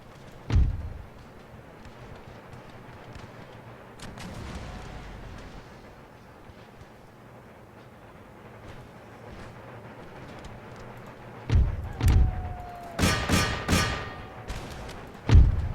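Cannon and musket fire in the Empire: Total War video game during the battle for Stockholm: a loud boom at the start, then a quiet stretch and a cluster of sharp volleys and thuds near the end.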